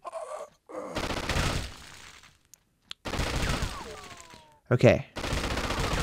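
Gunfire in True Crime: Streets of LA comes in bursts of rapid shots, broken by brief silences and a loud close blast, while a player speaks briefly.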